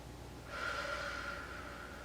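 A single deep breath taken during a Pilates reformer stretch, a soft airy exhale lasting about a second, close and otherwise quiet.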